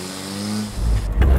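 A cheap used van starts a timed handling run on a hill, its engine droning steadily before swelling louder as it accelerates, with no one talking.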